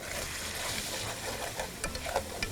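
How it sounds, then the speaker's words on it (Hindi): Turmeric with crushed and ground red chili is stirred and fried in a pot, making a steady sizzle with soft scraping stirring strokes that grow more frequent toward the end. "इसकी थोड़ी सी करेंगे भुनाई"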